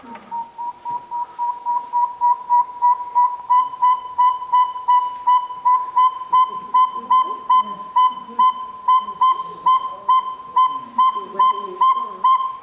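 A steady, rapid series of high whistled toots from a saw-whet owl repeats evenly, one after another, clear and fairly close against a quiet background.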